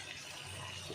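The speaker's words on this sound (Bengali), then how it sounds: "আমি এবার এর মধ্যে একটু জল দিয়ে দেবো।" Water running steadily into a pan while making Maggi noodles, a continuous soft splashing with no voices.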